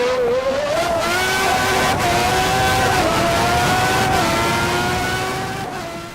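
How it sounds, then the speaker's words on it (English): A McLaren MP4/6 Formula 1 car's engine in the racing game Assetto Corsa howls loudly and continuously, its high-pitched tone rising and falling with small throttle blips through a corner before fading slightly at the end. "the way the engine sounds when giving the throttle small stabs mid-corner, searching for the nearest moment to start winding on the throttle."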